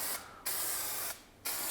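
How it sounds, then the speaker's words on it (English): Two bursts of TC42 adhesive from a Pebble Mist spray nozzle, aimed from a distance onto a glass mat, each a steady close hiss lasting about a quarter to three tenths of a second. "spraying from nice and far away"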